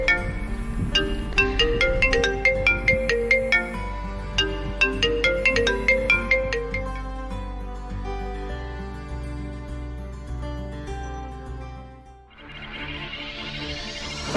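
A run of phone notification ringtones chimes in bright, rapid melodic tones, followed by sustained lower tones and a final rising electronic swell, with no talking.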